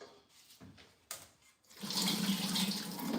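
Soaked raw pecans are rinsed under a running tap, with a few faint splashes and clinks at first, then a steady rush of water into the sink.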